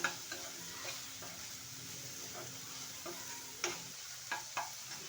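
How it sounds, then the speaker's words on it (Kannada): Baby corn for baby corn manchurian fries in a pan, a soft steady sizzle with occasional spoon clicks and stirring scrapes, close and without talk. "ಇದನ್ನೆಲ್ಲ ಸರಿಯಾಗಿ ಫ್ರೈ ಮಾಡ್ಕೋಬೇಕು"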